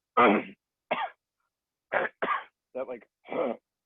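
A person's voice imitates a dry, phlegmy cough, with six short, harsh throat-clearing bursts separated by brief silences, close and clear.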